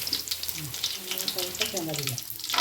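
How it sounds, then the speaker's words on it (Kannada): Mustard seeds and curry leaves sputter and crackle in hot oil for tempering, a steady close sizzle with scattered pops, while someone speaks over it. "ಸಾಸಿವೆ ಹಿಡಿದ್ಮೇಲೆ ಇದೆ ಕರಿಬೇವು ಸಾರು ಸಿಡಿಯುತ್ತೆ"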